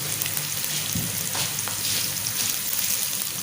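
Onions browning in a pan for a goat brain curry give a loud, dense, continuous sizzle with occasional stirring scrapes, close up and with no talking.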